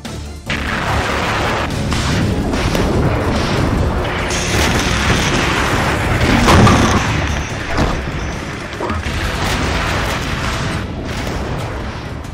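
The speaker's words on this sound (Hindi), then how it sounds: "मिसाइल धमाके से दहल रहे खार्कियों में भीषण संग्राम छिड़ा है।" Missile strikes in wartime Kharkiv produce a continuous heavy rumble of booms and crashing blasts, loud and dense with a stronger surge near the middle.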